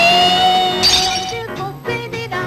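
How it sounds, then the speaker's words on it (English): Glass shatters loudly up close as a sustained sung note played from a Memorex cassette tape of Ella Fitzgerald rings out, followed by a brief tinkle of breaking fragments. "Can Memorex shatter the glass?"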